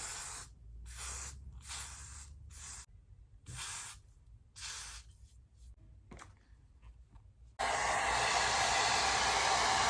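Several bursts of aerosol wig glue hissing from a can in short repeated blasts, ending in a longer continuous spray.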